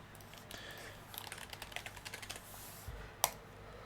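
Keys tapped on a computer keyboard while a username is entered during a clean install, a quick uneven run of light clicks close up, with a sharper single key strike near the end.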